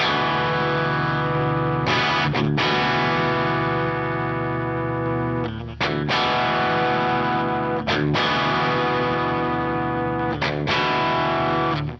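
Electric guitar run through a compressor on a Sonulab StompStation pedal, tone at zero for a neutral setting. Thick, sustained strummed chords ring loud and even, broken by a few brief choked gaps.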